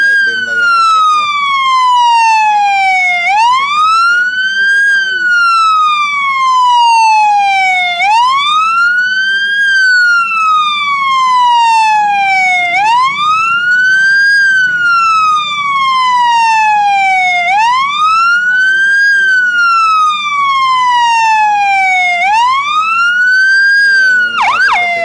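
Fire truck siren wailing loudly and close at a burning grocery store, rising and falling in long repeated sweeps over several cycles, continuous throughout.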